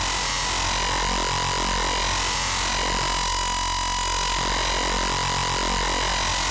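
Joranalogue modular synth wave folder producing a dense, buzzing folded tone with a steady pitched line and shifting harmonic sweeps, held continuously and alone.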